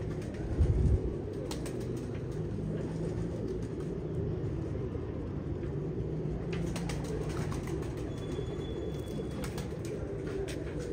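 Pet pigeons coo softly nearby over a low, steady background, with a brief burst of wing flapping near the start and no talking.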